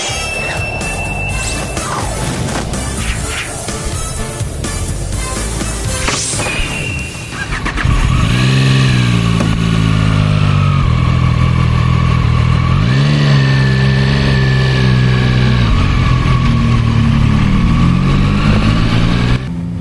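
A CFmoto 675SR and a Zontes 703RR sport motorcycle are heard first as loud mixed noise, then as a steady running engine whose rising and falling tones show revving and gear changes, close and loud throughout.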